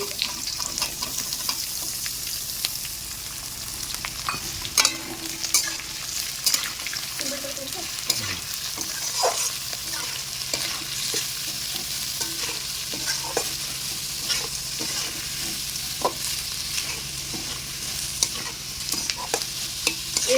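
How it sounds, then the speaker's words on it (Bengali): Chopped onions with whole garam masala stirred and fried in oil in a pan, a dense continuous sizzle punctuated by regular scraping and tapping of the spoon. "এরপর পেঁয়াজগুলো আমি নাড়িয়ে নাড়িয়ে ভাজতে থাকবো যতক্ষণ একটা ব্রাউন কালার না চলে আসে"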